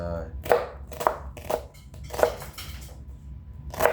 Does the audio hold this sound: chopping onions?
yes